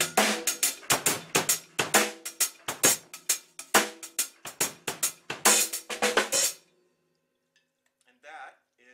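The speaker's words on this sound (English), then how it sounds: "that is your shuffle groove." A drum kit plays a shuffle groove up close, with crisp, evenly swung cymbal and snare hits repeating for about six and a half seconds before stopping, followed by a brief spoken voice.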